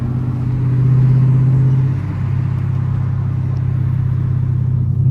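A Chevrolet Camaro SS engine drones steadily while driving, a loud low rumble that swells slightly for the first two seconds, eases off briefly, then holds an even cruising note with road and wind noise.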